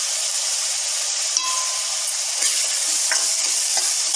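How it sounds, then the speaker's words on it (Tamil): Onions sauté in a pan for mutton thokku, a steady close sizzle and hiss with a few soft stirring scrapes and a light utensil tap. "வெங்காயம் நல்லா வதங்கணும்."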